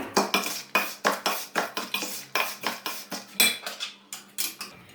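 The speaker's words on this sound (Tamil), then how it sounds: "இப்போ முந்திரி பருப்பை சேர்த்துடலாம். நல்லா கலந்து விட்டுக்கலாம்." A spoon scrapes and clanks against a pan while cashews are stirred into a wheat laddu mixture, a steady rhythm of close metallic strokes that repeats about four times a second.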